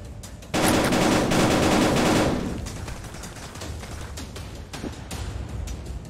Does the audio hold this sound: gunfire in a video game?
yes